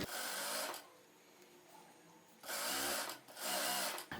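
A sewing machine stitches elastic with a long stitch in two short, fast whirring bursts with a quiet gap between them, close by and without talking.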